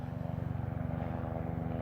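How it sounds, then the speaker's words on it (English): A police surveillance helicopter passes overhead, giving a steady low rotor and engine drone with a faint rhythmic beating that stays continuous and fairly distant throughout. "Here comes the police surveillance helicopter."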